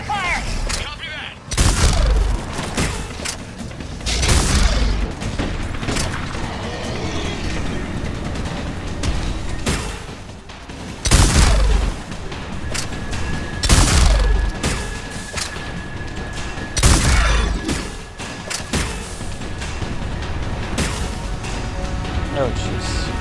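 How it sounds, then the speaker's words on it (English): Combat gunfire and heavy booms in Mass Effect 3 during cover fire, several loud blasts and shots spaced through the clip, with voices talking over the fighting. "Give us some cover fire!"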